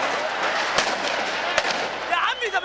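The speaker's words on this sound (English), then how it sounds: "Gunfire outside the presidential palace in Cairo last December." Sharp gunshots crack out outside the presidential palace in Cairo, two distinct reports ringing over a noisy crowd with voices and shouting in the background.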